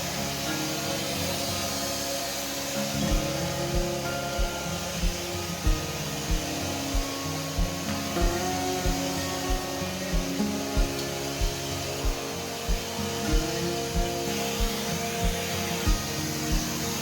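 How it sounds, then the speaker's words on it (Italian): A household vacuum cleaner runs steadily with a constant whine and hum, while a regular knocking or bumping recurs about every half second as it is pushed back and forth, fairly quiet and alone. "così posso passare velocemente l'aspirapolvere senza distrazioni."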